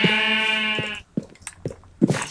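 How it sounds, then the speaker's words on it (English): A Minecraft sheep gives a loud, wavering bleat lasting about a second, followed by quieter in-game clicks and shuffling sounds, close and clear with no talking. "Shut up, sheep."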